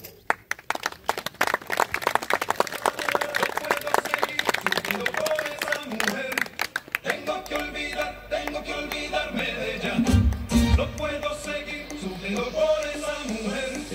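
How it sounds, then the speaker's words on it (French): Clapping from a show audience greeting a Cossack trick-riding act on a Lusitano horse: sharp scattered claps at first that thin out, then a mix of crowd noise, a loudspeaker voice and background sound. "battre des mains et encourager l'artiste"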